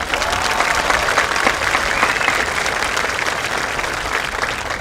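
Loud, dense applause from a large audience at a high school graduation ceremony, continuous and even throughout with a faint crowd murmur and no clear speech.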